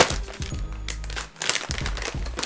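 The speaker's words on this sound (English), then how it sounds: "Now let's unwrap these bad boys." Close crinkling and rustling of plastic packaging as GO knee sleeves are unwrapped, irregular crackles and handling noise with a brief lull before more crinkling.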